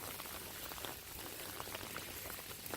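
Steady rain pours down during Hurricane Michael near an old iron bridge, a dense, even hiss of drops hitting surfaces with no pauses.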